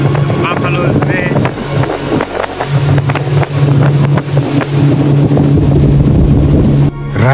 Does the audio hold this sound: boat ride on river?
yes